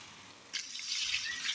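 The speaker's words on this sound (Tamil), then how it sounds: "தண்ணி சேர்த்துக்கிறோம்" Water pours into a cooking pot of golden-fried tomato and onion tempering for ghee rice, a soft steady splashing rush starting abruptly and continuing close up.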